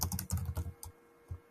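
Soft typing on a computer keyboard while working in the Figma design app: a quick burst of clustered keystrokes, then a few isolated taps, close and quiet.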